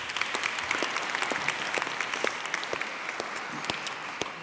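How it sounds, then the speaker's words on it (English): An audience at a Cape Town keynote conference applauds the speaker with sustained, even clapping from many hands, fairly close and loud throughout. "A round of applause, please, for Dr. Sean Phillips"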